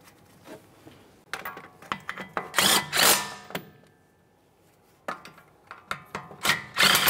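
Caliper bracket mounting bolts on a 2011-2020 Toyota Sienna front brake are tightened with a torque wrench, bursts of close metallic ratcheting and scraping separated by quiet gaps, with no voices.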